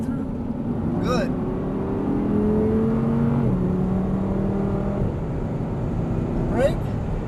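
An Audi R8 sports car carries speed through a racetrack turn, its engine a loud sustained whine that rises and then dips as the throttle is balanced, while an instructor talks over it.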